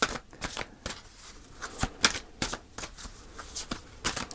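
Tarot cards shuffled by hand, producing a steady series of crisp, close papery slaps and riffles at a regular pace.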